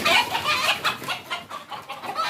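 A crowd of Omani hens clucking and cackling in a cage on a farm nearby, steady overlapping calls with sharp bursts, no voices.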